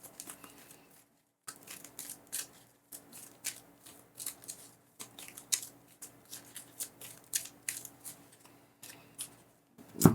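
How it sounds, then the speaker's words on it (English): Shuffling a pile of game cards during a Veilwraith solo tabletop session: repeated crisp riffling bursts and papery flicks, close and fairly quiet, arriving in irregular clusters separated by short pauses. "we are shuffling my pile now because I have to"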